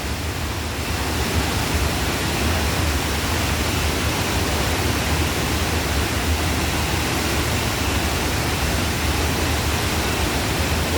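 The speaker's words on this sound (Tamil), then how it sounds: "உங்களுக்கு சிறிது நேரம் இந்த அருவியை காட்டுகிறேன் நண்பர்களே" Soochipara waterfall in Wayanad, Kerala roars in a dense, unbroken rush of falling water, loud and close throughout with no voices.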